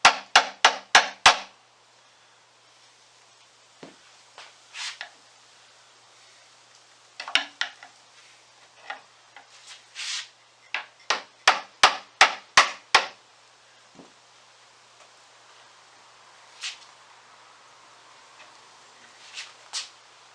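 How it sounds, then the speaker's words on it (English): A chisel struck with a hammer to pop a wooden plug from the arm of a Nichols and Stone rocking chair: close, sharp taps in quick bursts of four or five, separated by pauses and single lighter knocks. "We're going to pop this off with a chisel and take a look and see what we're dealing with"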